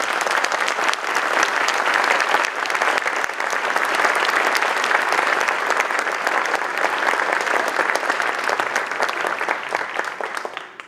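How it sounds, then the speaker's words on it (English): A university audience at the announcement of Southern Utah University's 17th president gives the search committee a long, sustained round of applause, dense hall-filling clapping lasting about ten seconds before tapering off. "Would like to give you a round of applause."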